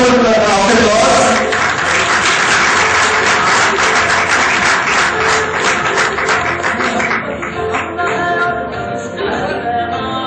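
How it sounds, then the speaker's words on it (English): A large audience at a food safety awards ceremony claps loudly and steadily, a dense wash of applause that tapers slightly toward the end, with some voices mixed in. "And please give a big round of applause."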